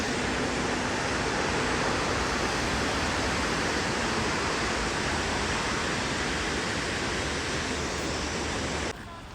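Waterfall in Banff National Park roaring steadily from a distance, a dense broadband rush that stays constant for the whole stretch, then drops slightly at the very end.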